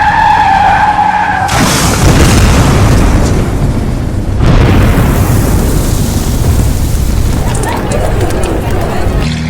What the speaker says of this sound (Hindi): विस्फोटक से लदी गाड़ी चेकपोस्ट से भिड़ा दी गई और उसके बाद यह धमाका हुआ